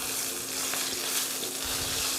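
Garlic cloves fry in oil in a pan after chicken fillets, giving a loud, dense, steady sizzle with faint stirring movements beneath it, close up, without speech.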